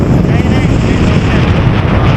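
Strong wind at a paragliding site in Manali roars steadily across the microphone, a dense, loud, unbroken rumble with buffeting gusts that lasts the whole moment.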